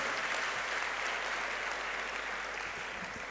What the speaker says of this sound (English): Can we amplify the applause, ladies and gentlemen?